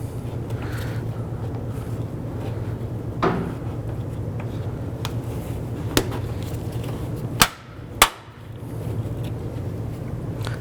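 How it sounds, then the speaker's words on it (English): A plastic retaining button on a 2006-11 Honda Civic's windshield washer reservoir is pried out with a trim tool: a few faint taps, then two sharp, close plastic snaps about a second apart over a steady low background hum, with no talking. "Using your trim tool, you want to go ahead and remove this plastic button here."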